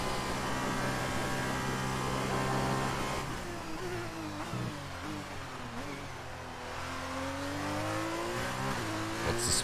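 Onboard engine of an F2 race car on a lap in a racing video game, a loud sustained high-revving drone with rising and falling pitch through gear changes and corners, close and without voices.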